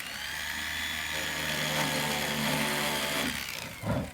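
A small rotary burr grinds divots into a charcoal block, giving a close, high whirring buzz that holds steady for a few seconds before tapering off with a brief scrape.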